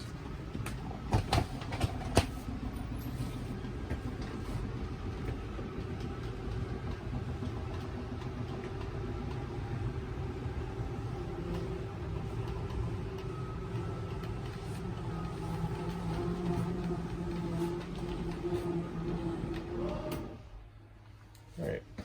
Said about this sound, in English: press and hold out, and the slide will make its way out